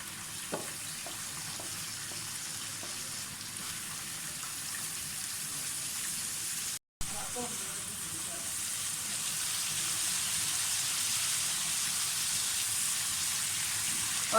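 Tomato paste frying in hot oil for an egg curry, a steady dense sizzle with occasional stirring scrapes, briefly cut out midway, then continuing louder and constant.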